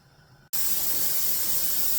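Steady, loud hiss of steam venting through the vent hole of a pressure canner holding kidney beans, starting abruptly after a brief quiet moment and continuing without break.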